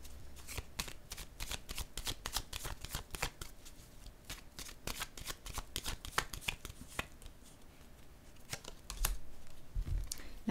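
Tarot cards being shuffled by hand, a dense run of crisp riffling and slapping card sounds close up, continuous with a few louder flicks near the end and no voice.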